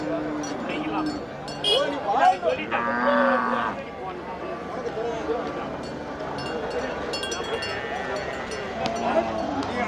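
Kangayam cross bulls and other cattle moo repeatedly at a busy cattle market, loud and close, over a steady murmur of voices and faint clinks.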